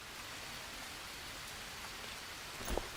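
Steady rain falls in the survival game Green Hell, an even, soft hiss of drops on foliage and ground lasting throughout, with a brief louder patter near the end.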